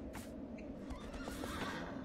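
A horse whinnies in the video game Shadow of the Colossus, a shrill neigh rising above a dull, continuous low rumble, with faint hoof clip-clop along the way and no talk.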